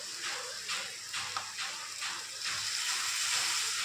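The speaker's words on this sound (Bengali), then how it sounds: "এবার আমি একটু জল দিয়ে দেবো।" Water is poured into a pan of spiced bhola fish kalia cooked down with salt, turmeric, chilli, cumin and coriander powder, making a soft sizzling hiss with gurgling splashes; the sound is fairly quiet and continuous.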